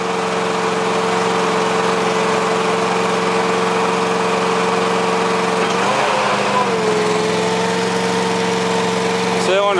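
A 2007 Tiger auger bucket's hydraulic cylinders raise while its engine runs, a loud, steady, close drone with a hum that dips and shifts briefly as the hydraulics load up partway through.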